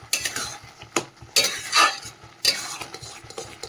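Carrot halwa (gajar ka halwa) being stirred in a pan with a metal spatula, giving repeated scraping and clinking strokes in uneven bursts, close and fairly loud, with a faint sizzle beneath.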